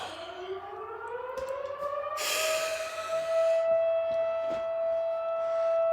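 A wailing siren winds up, its pitch rising and then holding a sustained loud tone, with faint background clatter.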